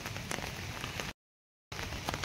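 Rain falls steadily around a house in a soft, even hiss at moderate level, broken by a short gap of silence partway through.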